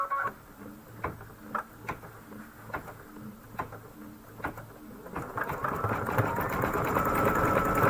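Embroidery sewing machine stitching a rocket fuse detail in red thread, slow rhythmic thumps of individual stitches at first, then speeding up into a continuous close, busy whir.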